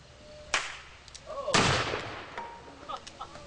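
Two loud gunshots in an outdoor shooting demonstration at a California state park, the first a sharp crack and the second a heavier boom about a second later, each followed by a rolling echo, with faint voices in between.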